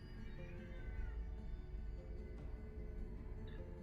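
A pet cat wails from another room, drawn-out muffled meowing heard at a distance over a low background hum, with no voices.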